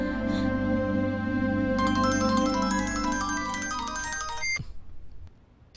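A phone rings with an incoming call in a dubbed action crime thriller, a sustained electronic melody of layered bright tones that plays for several seconds and then abruptly stops.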